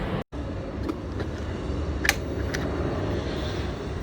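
A low, steady engine drone of an airplane overhead fills the background, with a brief dropout near the start and a few faint clicks.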